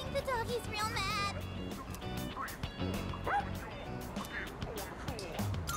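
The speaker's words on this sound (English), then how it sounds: "I think the doggy's real mad." An angry dog in the video game Persona 3 Reload barks and yips repeatedly in quick bursts, with some whimpering, over game music and character voices talking.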